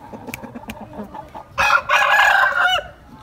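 An aseel rooster on a farm gives a loud, close crow lasting over a second, preceded by faint clucking and scratching sounds.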